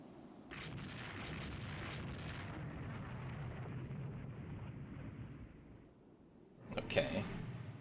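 Torpedo hits and shell explosions in the naval warfare game Rule the Waves 3 sound as a steady rumbling battle din, rising into a sharper, louder burst of impacts near the end, with a voice talking over it.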